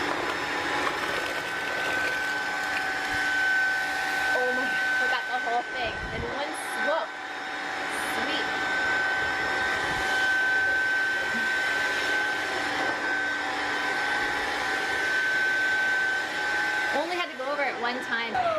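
A Roborock Dyad wet-dry vacuum sucks up cereal from the floor with a steady, loud, high motor whine that runs without a break, and a voice is heard briefly near the end.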